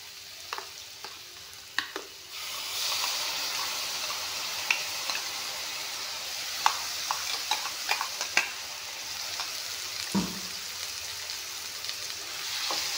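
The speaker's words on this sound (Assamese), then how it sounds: "এইখিনি অলপমান ভাজি ল'ম।" Ginger, garlic and green chili paste fries in a pan, a steady bright sizzle that jumps louder as the paste goes in, with scattered stirring clicks and scrapes close by.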